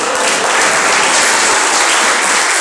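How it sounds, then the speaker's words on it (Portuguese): Loud, close applause from a church congregation, a thick continuous roar of clapping hands filling the space without letup for a few seconds. "dá uma linda salva de palmas para ele."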